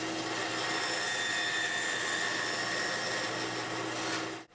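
Bandsaw with its fence set to 2 inches cutting waste from a wooden board, a loud steady whining roar that holds through the cut and then drops off abruptly at the end.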